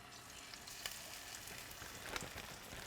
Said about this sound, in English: See that sizzle right there?